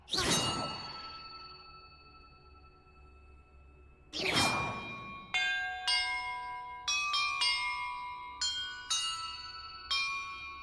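Bells in Hogwarts Legacy ring out one after another: two big resonant strikes with long decaying tails, then a quicker run of bright chiming tones, each ringing on alone.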